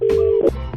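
Telephone keypad dialing for a prank call, a steady tone followed by short beeps in quick succession, close and clear.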